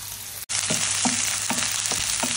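Two sliced onions hit hot oil in a pan with a loud, steady sizzle, after a brief gap, with soft stirring scrapes recurring every half second or so, close and alone.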